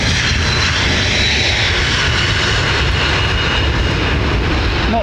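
Airbus airliner jet engines roar at London Heathrow Airport, a steady, loud, continuous drone holding without a break through the whole stretch.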